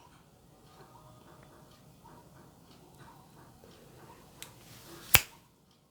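A single crisp finger snap cracks sharply near the end, following a soft, low murmuring voice and quiet room tone.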